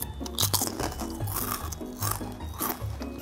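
Close, crisp crunching of bite-sized fried glutinous-rice seaweed chips with cheese being chewed, several bites in a steady rhythm.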